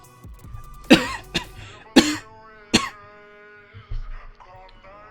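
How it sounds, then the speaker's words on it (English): A few sharp, throaty coughs spaced about a second apart, close to the microphone, with a quieter cough and a brief throat sound afterward, during a live stream. "Apologies for that, for the cough."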